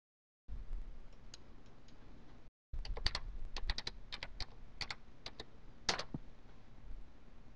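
A web address is typed on a computer keyboard, a close run of quick, uneven key clicks with a brief pause, then faster bursts of tapping, over a faint background hiss.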